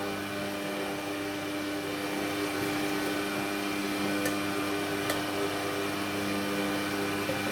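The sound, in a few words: electric blender mixing beignet batter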